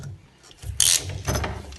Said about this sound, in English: these little crimps here, these stainless steel crimps which crimp on